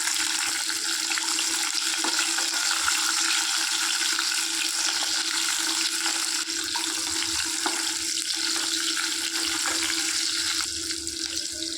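Small shallots frying in spiced oil with bay leaf for a mutton gravy, giving a steady dense sizzle and hiss that runs throughout without pause, with no talking.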